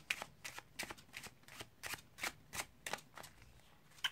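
Crisp, rapid riffles of a deck of playing cards being shuffled, about a dozen quick bursts in steady rhythm, close and quiet.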